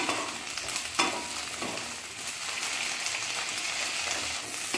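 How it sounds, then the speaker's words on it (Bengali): Cut okra being stirred and fried in oil in a pan: a steady, close crackling sizzle with spatula scrapes and occasional clatters running throughout, with no voices. "ঢ্যাঁড়সগুলোকে কিছুক্ষণ ধরে নাড়াচাড়া করে ভেজে নিচ্ছি"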